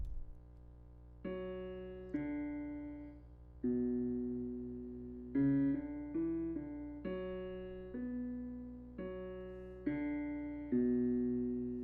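A soft keyboard tone traces a melody in descending thirds, notes struck one after another and left to ring and fade in an even pulse above a quiet low hum, with nothing else present.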